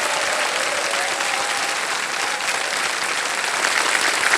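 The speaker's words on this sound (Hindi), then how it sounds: "तालियां बज जाए इनके लिए।" A studio audience on a televised quiz show bursts into loud, sustained applause for a contestant, a thick continuous roar of clapping that stays full and close for the whole stretch.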